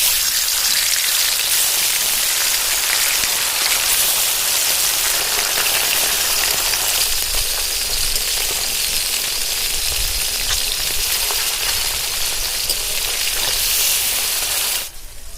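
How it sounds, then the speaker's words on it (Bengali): Bata fish rubbed with salt and turmeric fry in hot oil, giving a loud, dense, unbroken sizzle that crackles steadily and close before cutting off abruptly at the end. "প্রথমে আমি বাটা মাছগুলোকে ভেজে নেব"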